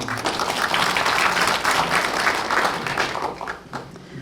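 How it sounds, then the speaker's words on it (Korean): A local audience at a Mapo-eul National Assembly candidates' debate applauds after a candidate finishes speaking, a sustained burst of clapping filling the hall before tapering off. "주민 여러분께서 이렇게 발언 끝날 때마다 박수 쳐주시고"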